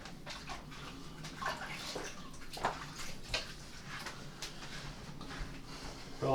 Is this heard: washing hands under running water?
yes